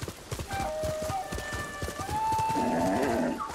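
Horse hooves clip-clop in a steady rhythm in the video game Ghost of Tsushima, and a clear whinny rises near the end. The animal sounds are close and fairly loud over a background of game ambience.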